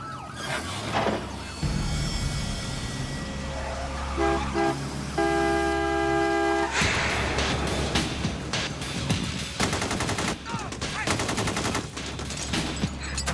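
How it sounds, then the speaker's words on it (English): Sharp gunshots crack out amid the North Hollywood shoot-out, mixed with car horn toots, sirens and street noise, with a dense burst of rapid, loud reports near the end; faint voices shout underneath. "Okay, he's firing."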